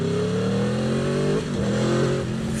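Aprilia RSV4 Factory sport motorcycle accelerating hard, its engine revving loud and close with a rising whine, a brief dip as it shifts gear, then climbing again.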